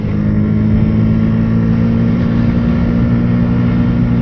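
A Yamaha YZF R125 125cc motorcycle pulls hard uphill, its engine holding a steady, loud droning tone close to the microphone for the whole stretch, with no talking over it.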